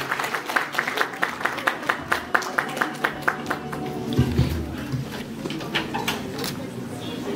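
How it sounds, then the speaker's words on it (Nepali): A crowd claps in a quick, steady rhythm for several seconds, then the applause loosens and fades under voices. It welcomes the actress Keki Adhikari at the 200th edition of a weekly Inspiring Youth event in Nepal. "कृपया जोरदार तालीले उहाँहरूलाई स्वागत गरिदिनका लागि म हार्दिक अनुरोध गर्दछु"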